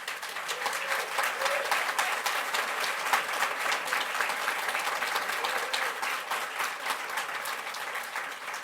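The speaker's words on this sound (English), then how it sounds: "there's no need to applause" Steady applause from the audience at a school district board meeting, with crowded clapping in a large room that keeps an even, sustained level for several seconds.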